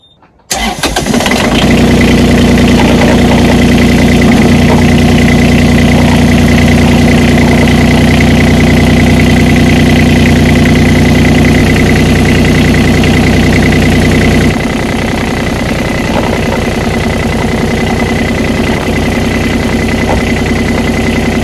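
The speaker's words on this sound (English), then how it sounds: "Let me go outside and turn on the engine or warm it up." Boat engine cranking then catching and settling into a steady, loud idle during a winterization warm-up, with a slight drop in level toward the end.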